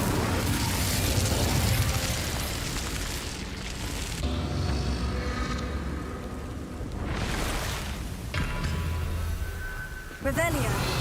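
A fire spell, Incendio, cast in the video game Hogwarts Legacy, bursting loud and booming over layered game music and effects, with a second sharp whoosh near the end.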